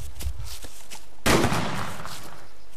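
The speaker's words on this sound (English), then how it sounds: "someone has a shotgun or something" Shotgun fire in a multiplayer shooter game: one loud, sharp blast after fainter distant shots and footsteps, ringing off afterward.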